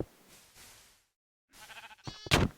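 Two short bursts of bleating from sheep in Minecraft, separated by a brief silence, the second bleat louder and closer.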